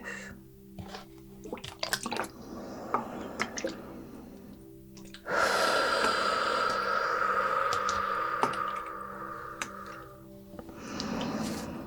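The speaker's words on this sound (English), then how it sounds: "the reason that I like using oil and cream in my videos is because I love listening to the sound when I'm editing" Oil and cream rubbed between hands close up, wet squishing and slick sliding sounds with brief sticky clicks, then a longer continuous smearing rub.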